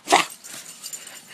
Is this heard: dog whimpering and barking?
yes